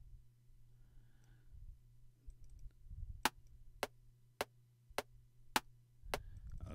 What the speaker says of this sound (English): So I'll put my click on a medium click